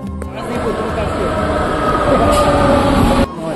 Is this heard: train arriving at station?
yes